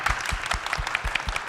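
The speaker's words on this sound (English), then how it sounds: "there's usually a round of applause" A small room of workshop attendees at a guideline-development meeting claps in a quick, fairly even rhythm of distinct hand claps, brief and moderately close.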